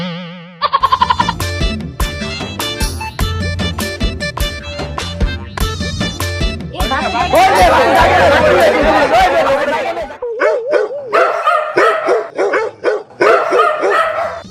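Several people on a bus bark like dogs, voices imitating rapid yips and woofs close and loud amid crowd chatter, with a swelling burst of overlapping noise partway through.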